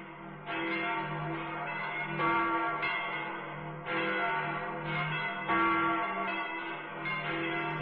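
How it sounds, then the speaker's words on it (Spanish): Church bells tolling, rich resonant strikes repeating about every second, each one ringing on and overlapping the next, sounding steady and slightly far off. "me llegaba el sonido de lejanas campanas que tañían de cuando en cuando"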